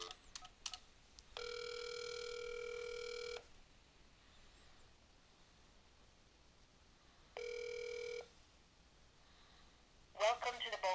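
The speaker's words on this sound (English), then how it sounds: "I'm going to go ahead and dial into my OpenVoice." Telephone call into the Bold OpenVoice system on a Bold MediaGateway: two steady electronic phone tones, one long and one shorter, sound alone over faint line hiss, and a voice begins at the end.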